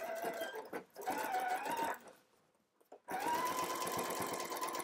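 Sewing machine running a regular stitch over a basting seam on jumpsuit pants, two long steady runs of rapid whirring separated by a brief near-silent pause, loud and close with no talk.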